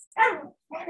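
Indoors at home, a dog gives a short bark followed by a softer yip or whimper a moment later, close and fairly loud, with brief silence between.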